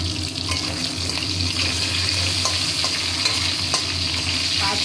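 Panch phoron spices crackle and sizzle loudly in hot oil left from frying a fish head, a dense continuous hiss with scattered pops and stirring sounds, no talking.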